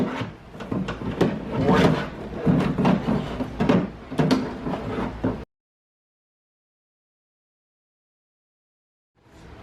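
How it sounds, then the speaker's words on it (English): Clunky plastic and metal rubbing and knocking as a door lock actuator is worked into place by hand inside a 2015+ Jaguar XE door, several irregular bumps and scrapes, then silence. "work the door lock actuator into place"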